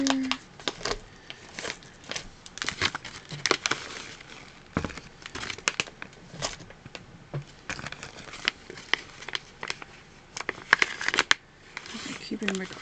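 A deck of tarot cards is handled and shuffled close up, with quick papery riffles and taps coming in irregular bursts throughout, while a person talks over it.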